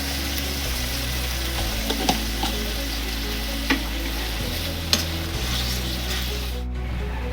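Tomato paste sizzling and frying in a hot pan for a Bengali vegetarian potol (pointed gourd) curry, a steady close crackling hiss with a few light scrapes of stirring.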